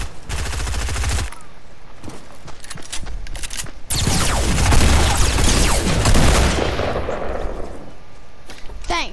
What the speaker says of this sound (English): Why'd you shoot him?